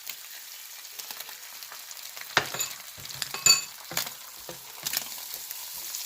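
Scallion, thyme and chopped onion sizzle softly on a grill, with irregular stirring scrapes and light clinks coming through close by.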